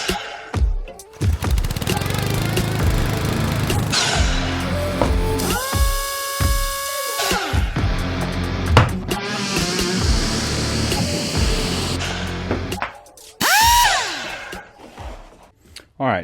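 Power saw cutting wood pieces one after another against a stop block in a woodworking shop, several bursts of whining blade and cutting noise with pauses between them.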